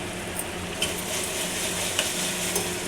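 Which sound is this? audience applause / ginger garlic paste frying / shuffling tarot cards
ginger garlic paste frying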